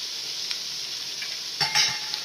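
Garlic, ginger and green chilli sizzle in a pan for a Kerala chicken mappas, a bright steady hiss with spatula stirring scrapes toward the end, close and clear, with no talk.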